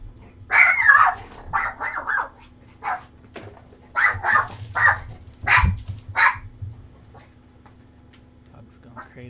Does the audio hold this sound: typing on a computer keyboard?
no